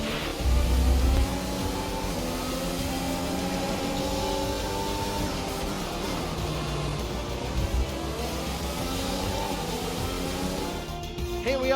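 A Formula 1 car in a racing game drives in at the Baku street circuit, its engine a steady, sustained whine with shifting harmonic tones and no break, heard close and alone.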